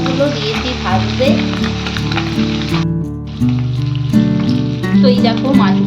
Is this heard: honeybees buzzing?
no